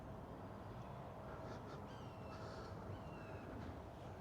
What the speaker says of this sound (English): I'm trying to see where that bird is.